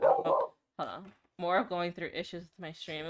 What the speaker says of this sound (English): Sorry about my dog barking.